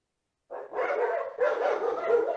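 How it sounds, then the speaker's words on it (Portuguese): Several dogs bark excitedly in a continuous burst of overlapping barks and yips, fairly loud and close, with no talk over them. "até os cachorros se empolgaram aí"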